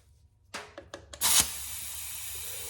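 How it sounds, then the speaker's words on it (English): A few soft clicks and taps as an air chuck goes onto a tire valve stem, then a sharp burst of hissing air that settles into a steady, quieter hiss, close by. "You should be able to hear air going into the tire."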